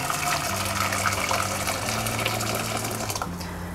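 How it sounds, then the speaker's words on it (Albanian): Hot water pours into a cooking pot for an Albanian meatball soup, a steady rushing gush that continues throughout with music playing underneath. "Në një tenxhere do të shtojmë ujë të nxehtë."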